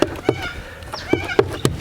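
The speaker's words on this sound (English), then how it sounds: "Just those birds love to put up a racket, don't they?" Birds outdoors in Australian bushland making a racket, a run of sharp, close chirps and squawks in irregular bursts, with a brief whistling note between them.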